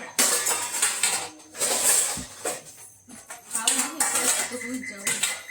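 Dishes, pots and cutlery clatter and clink repeatedly in a home kitchen after a meal has been cooked, in busy close-up bursts with faint voices in the background.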